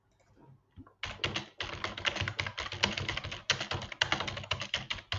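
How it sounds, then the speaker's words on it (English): Rapid typing on a computer keyboard: after a quiet start, a fast, steady stream of close, crisp keystrokes clatters along with only brief pauses. "on a live and typing on their keyboard"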